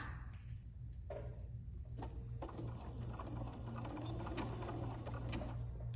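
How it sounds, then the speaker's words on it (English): A sewing machine stitches down quilt binding on a wall hanging, its steady mechanical whir running continuously at moderate level throughout, with faint clicks and handling noises on top. "I'm going to sew down the next side, just like I did with the other one."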